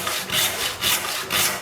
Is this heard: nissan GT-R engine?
no